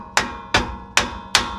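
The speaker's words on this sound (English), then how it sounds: "My hammer here, we'll hit her a few times" Four sharp metallic hammer blows land on the pinion of a 1960 Chevrolet Bel Air during pinion seal work, evenly spaced and loud and close, each leaving a short ringing decay.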